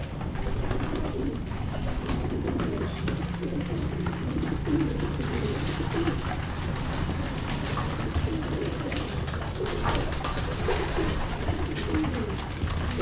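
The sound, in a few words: breeder pigeons cooing in loft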